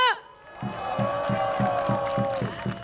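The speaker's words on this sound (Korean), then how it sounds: "큰 박수 부탁드립니다" Rally crowd in Seoul near City Hall station breaks into steady applause with scattered cheers, rising after a brief pause and holding loud and dense, with a sustained voice or tone riding above the clapping.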